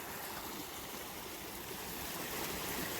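Steady broadband rush of water pouring over a beaver dam, continuous and fairly loud outdoors with no pauses or voices.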